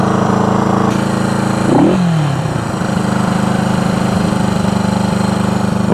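A motorcycle engine idles steady and high, dipping in pitch once about two seconds in before settling back into a continuous, close, loud drone with no talking.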